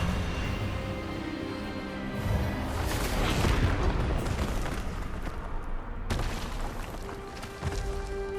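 A spell blast from the wizarding game Hogwarts Legacy, a sustained booming magical burst with crackling and rumbling bursts that swell mid-way and hit again with a sharp impact near the end, loud and dense.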